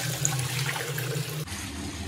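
Seven kilograms of meat for homemade dog food is washed under running water, a steady close gush and splash that shifts to a lower, fuller tone partway through, with no one speaking.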